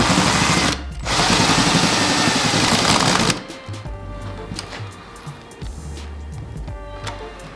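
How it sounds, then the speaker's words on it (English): A power drill runs in loud bursts, tightening the bolts on hose clamps around a segmented wooden bowl in a workshop, followed by quieter mechanical clicks and handling sounds. "each of these hose clamps has a bolt on the end of it that you can just tighten down with a drill"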